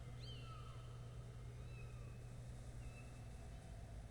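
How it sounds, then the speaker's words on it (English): Kittens meow in the Sam & Max Remastered video game, a few faint, high, thin mewing cries over a low steady background hum. "Those kittens are going to give me nightmares."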